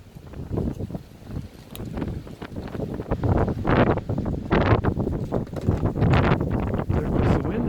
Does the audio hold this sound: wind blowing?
yes